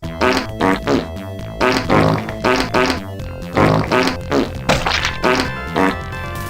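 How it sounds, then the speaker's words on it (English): Cartoonish fart noises sound repeatedly from a bathroom-themed pinball video game, each blast triggered by a button press, loud and closely spaced over bouncy music-like tones, with no talking. "every time you press a button, there's a fart noise"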